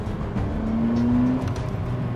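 A Ferrari F50 engine accelerates, its tone climbing steadily in pitch as revs build, moderately loud against road and wind noise.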